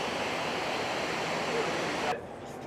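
Water flows steadily with a broad rushing wash at a memorial fountain in New York City, continuous and fairly loud before dropping abruptly to a softer level near the end.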